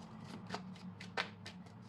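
Tarot cards being shuffled by hand in a steady run of soft papery riffles, with one sharper slap partway through, close and fairly quiet.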